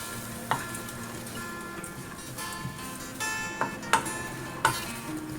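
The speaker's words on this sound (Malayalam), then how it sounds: "ഇനി ഇത് ലോ ഫ്ലെയിമിലിട്ട് 3-4 മിനിറ്റ് ഒന്ന് റോസ്റ്റ് ചെയ്തെടുക്കാം." Dried prawns roast in a pan over a low flame, giving a soft, steady sizzle with a few sharp scraping clicks of stirring, close and alone without speech.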